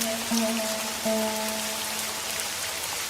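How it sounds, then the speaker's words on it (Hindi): Heavy rain pours down steadily in a dense hiss, with a couple of faint tonal notes sounding briefly near the start. "आज तो बारिश ने जम के कहर ढाया है"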